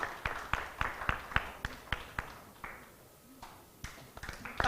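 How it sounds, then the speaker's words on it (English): Scattered audience claps at a panel talk event as a team leader comes up, fairly near, individual hand claps in an uneven rhythm, thinning out midway and then picking up again. "Big hand clap as the guy comes up here."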